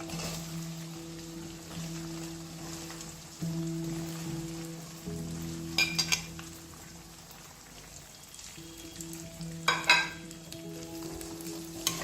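Sun-dried jackfruit frying in oil for Assamese jackfruit pickle, a continuous crackling sizzle with a few louder bursts of spatter and occasional stirring scrapes, no voices.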